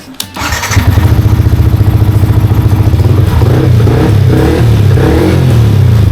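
A Yamaha MT15 motorcycle engine starts up after a short clatter and settles into a loud, steady close idle with rapid even pulses, then swells with a few revs near the end.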